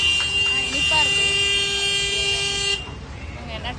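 Street traffic with car horns honking, a sustained loud toot holding for a few seconds over engine and road noise, then cutting off into quieter traffic murmur.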